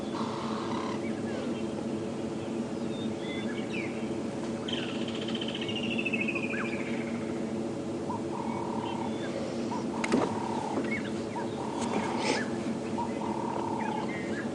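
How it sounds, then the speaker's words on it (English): Birds call at dawn on an African safari drive, repeated short whistled notes and a descending trill above a steady low hum of a vehicle or background, fairly distant, with brief sharper chirps scattered through. "the birds are starting to call in this beautiful dawn light"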